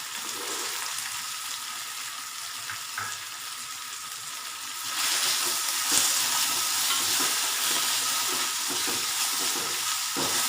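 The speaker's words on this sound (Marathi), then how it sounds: "बटाटे परतल्यानंतर शेंगदाणे टाकू।" Potatoes and peanuts fry and get stirred in a pan, giving a steady close sizzle with scraping stirs that grows louder partway through, and no voices.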